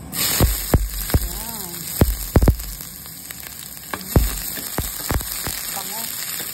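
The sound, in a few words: onion sautéing in hot oil in a pan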